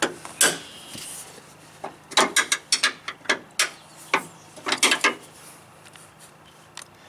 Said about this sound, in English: break these all loose with the solid end, and then I'll use the ratchet end after these are broke loose